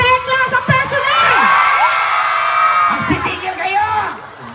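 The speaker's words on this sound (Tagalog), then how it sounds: "Magpalakpakan po na may kasamang sigawan" A live audience whoops, cheers and shouts loudly together at a comedy show, with clapping mixed into a sustained roar that rises and then eases off, voices yelling over it.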